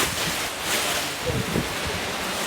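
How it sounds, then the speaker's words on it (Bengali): An air cooler blows a strong, steady rush of air that roars near the microphone, with a faint voice briefly underneath. "এই যে কি পরিমাণে বাতাস দেখছেন"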